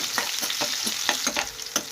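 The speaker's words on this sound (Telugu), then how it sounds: "ఇప్పుడు ఇందులోనే సన్నగా కట్ చేసినటువంటి ఉల్లిపాయ ముక్కల్ని వేసుకొని ఉల్లిపాయ బ్రౌన్ కలర్ వచ్చేంత వరకు ఫ్రై" Sliced onions and dried chillies frying in oil as a tempering for rasam, a steady close sizzle broken by repeated stirring scrapes at a quick, uneven rhythm.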